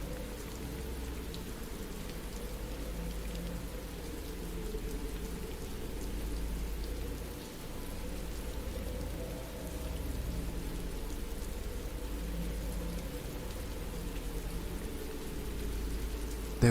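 Heavy rain pouring down as a sound effect, a dense continuous hiss of drops on surfaces that stays steady and close throughout, with a faint low rumble underneath and no talk.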